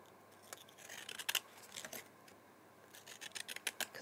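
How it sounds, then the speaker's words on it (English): Scalloped edge scissors snip through two layers of paper and card from recycled Christmas cards, a series of soft, crisp cutting clicks at close range in a quiet room. "So I'm using scalloped edge scissors"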